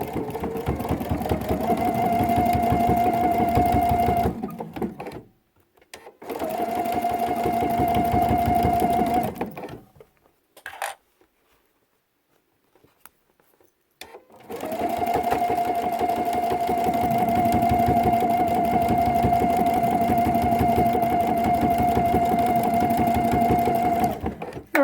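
A sewing machine stitches a decorative serpentine stitch along quilt binding, running in three sustained whirring bursts separated by brief pauses, with a longer quiet gap in the middle.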